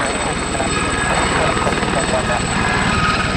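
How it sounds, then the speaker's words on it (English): A helicopter takes off at Kemble Cotswold Airport, its loud, steady rotor chop pulsing evenly and close by throughout, with radio-style talk faintly underneath. "Helicopter Golf, November Sierra on reaching Golf 1 runway 26, take off at your discretion"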